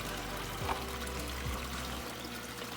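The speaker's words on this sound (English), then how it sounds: "the water from there is pumped up into this tank here that's on the east side of the greenhouse" Water pouring and trickling in an aquaponics greenhouse sump tank, a steady close splashing flow that continues evenly without pause.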